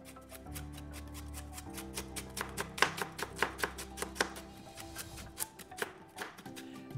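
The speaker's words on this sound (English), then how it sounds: "To get the last bit of gobou, I'm just gonna cut it up like I did the carrots" A kitchen knife slices burdock root (gobou) on a cutting board in a run of crisp, fairly even taps, close and quiet, over a low steady background hum.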